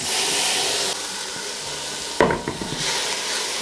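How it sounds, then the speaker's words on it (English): Rinsed red lentils tipped into a pot of sautéing onions: steady close sizzle, then a sharp clatter and scrape as they drop in and are stirred, with frying continuing underneath. "Now I'm going to add in the lentils, so they're rinsed red lentils."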